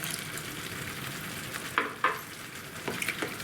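A spoon stirs vermicelli simmering in milk in a pot for a sweet payasam, giving a soft steady bubbling hiss with a few sharper scraping strokes near the end.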